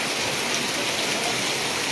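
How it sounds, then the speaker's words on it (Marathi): Heavy monsoon rain pours steadily at the Koynanagar bus station, a dense continuous hiss of drops drumming on surfaces, loud and close with no pauses. "सध्या एक ही मोठी सर आली पावसाची आणि मुसळधार पाऊस चालू असल्यासारखा असा हा पाऊस आहे"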